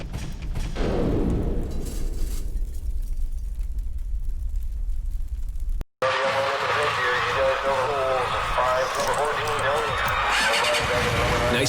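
A motorcycle riding fast on an open road, its engine droning steadily up close with rushing wind, while a voice talks over the ride; the sound cuts out sharply for an instant midway, then returns in a different, busier mix.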